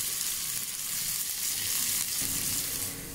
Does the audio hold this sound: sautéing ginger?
yes